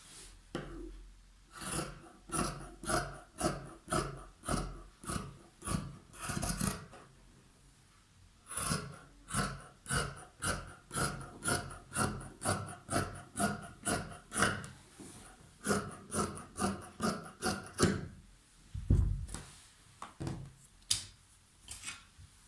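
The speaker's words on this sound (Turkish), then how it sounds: "Şimdi kesiyorum ben taytımı." Scissors cut through stretchy sock-tights fabric in a long run of crisp, evenly spaced snips. The cuts come in close, regular bursts with brief pauses between them, and no one speaks.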